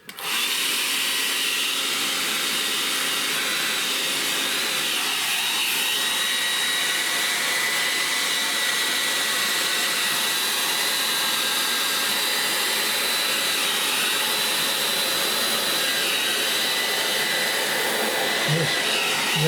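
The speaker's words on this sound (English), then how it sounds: "Where's my hair dryer?" Hair dryer blowing hot air to dry acrylic paint on cartridge paper, a loud, steady, continuous whirring roar held unbroken for the whole stretch, close to the listener with no talk.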